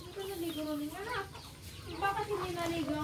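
A native chicken clucks in a few drawn-out calls, moderately close, over steady outdoor farm background noise with some faint human voice.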